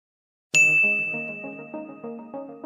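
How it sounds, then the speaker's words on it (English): A phone notification chime sounds once in a quiet room at six in the morning: a bright, sudden ding that rings on, followed by a short run of softer tones that fade out. "I was jolted awake by a single notification sound"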